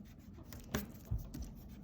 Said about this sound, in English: Erase my witness marks.